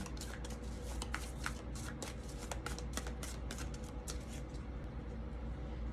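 Oracle cards shuffled by hand for a tarot reading, a steady run of soft papery riffles and slaps at close range, continuing without pause and with no talking.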